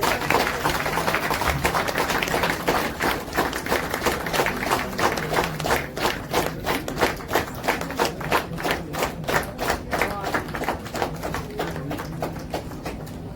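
An audience applauding at an honoring ceremony for a poet at Pacific Mall, Dwarka: sustained clapping that turns into a steady rhythmic beat, moderately loud and close, with no talk over it.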